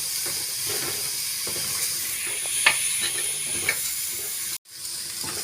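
Washed cowpeas sizzle and hiss in a hot pan with chilli powder as a Tamil curry-style gravy is cooked, with a few scraping stirs breaking through the steady frying noise and a brief dropout near the end.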